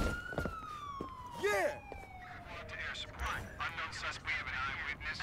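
A police siren in the video game Watch Dogs 2 wails with a descending tone, then fades while other game noises and sharp bursts clutter the mix.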